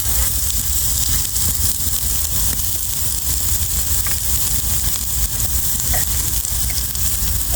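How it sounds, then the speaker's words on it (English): Onion hitting hot oil in a cast iron pan, giving a loud, steady, close sizzle that holds unbroken throughout, with no talking. "Start off with a little oil. And add a little"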